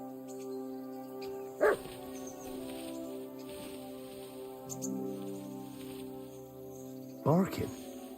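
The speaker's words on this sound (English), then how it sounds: "Barking." A dog in the video game Kingdom Come: Deliverance II barks in two short bursts, one early and one near the end, set against a quiet ambient bed of music and insect chirping.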